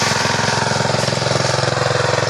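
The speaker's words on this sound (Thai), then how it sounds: "นี่เป็นเครื่องยนต์ เป็นซิน นะครับที่เราสูบ น้ำบาดาล มา" A small engine driving a pump that draws groundwater runs steadily and loudly at close range, a rhythmic chugging drone with no talking.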